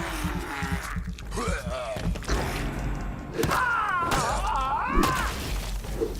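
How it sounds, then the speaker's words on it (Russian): Explosions burst in a video game amid dense game sound effects, with someone speaking over the noisy, cluttered action. "О, это взрывается."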